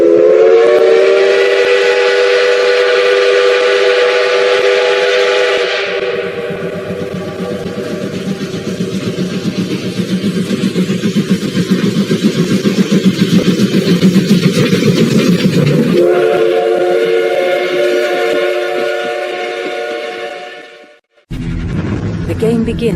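Sound effect of a train pulling out, a long loud multi-tone whistle blast followed by chugging rail rumble, then the whistle sounds again and the sequence breaks off abruptly before a short burst resumes.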